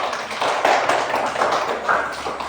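Pupils in a classroom clap their hands together in a brief burst, a busy and fairly loud patter of taps that continues steadily across the moment with no talking.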